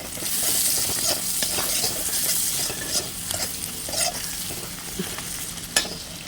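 Green chilli sizzles in hot oil in a pan while being stirred for a Malabar spinach and prawn dish, a steady crackling fry broken by scraping strokes and a sharp clink near the end.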